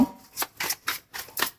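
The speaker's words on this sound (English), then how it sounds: "I have to shuffle them my usual way." Five quick bursts of tarot cards riffling and slapping together as they are shuffled, evenly spaced and close up, with no talking.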